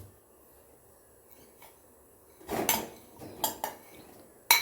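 A utensil stirs dry coconut and jaggery as they fry in a pan. After a quiet stretch come several close, bright scrapes and clinks against the pan in short bursts.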